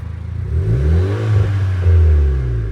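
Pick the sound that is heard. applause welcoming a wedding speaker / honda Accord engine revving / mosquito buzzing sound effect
honda Accord engine revving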